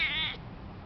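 A single short, clear cat meow rises close by and then stops abruptly, leaving quiet room tone for the rest of the moment.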